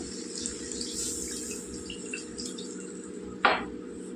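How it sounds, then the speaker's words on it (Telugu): Steady running water pours and splashes continuously into a cooking pan of potato curry, with a brief louder splash near the end; no voices. "ఇప్పుడైతే మనం ఇందులో తగినవి నీళ్ళు వేసుకుందాం"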